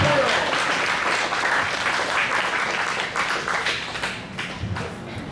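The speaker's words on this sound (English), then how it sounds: "Round of applause." Audience applause after a song at a front porch variety show, a dense wash of many hands clapping that stays loud and steady, then tapers slightly toward the end.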